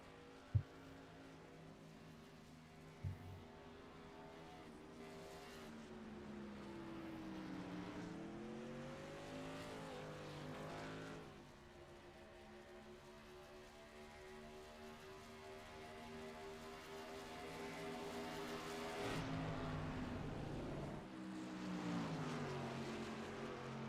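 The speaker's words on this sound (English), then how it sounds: "See the 75 of Jamie Kerr racing around the 66 of Cody Harger as they run down the backstretch here." Modified race cars lapping the oval at Gateway, a pack of engines droning steadily past with rising and falling pitch as cars pass, plus a couple of sharp knocks early on, no voices.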